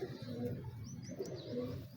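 Soft pigeon coos repeat over a steady low murmur, with a few faint higher chirps drifting in the background.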